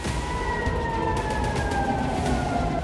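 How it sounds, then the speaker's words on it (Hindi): Air raid sirens wail across Tel Aviv, a steady drawn-out tone that slowly falls in pitch, heard at a distance over a constant low rumble of city noise. "ये इजराइल के तेल अवीव से आई तस्वीरें हैं जहां सायरन गूंज रहे हैं"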